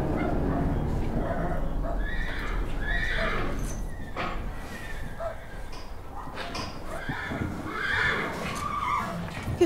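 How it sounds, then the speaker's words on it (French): Horses neigh and whinny close by amid hoof clatter and general commotion, with a dog-like yip mixed in and a steady background rumble throughout. "Que font ces chevaux ici?"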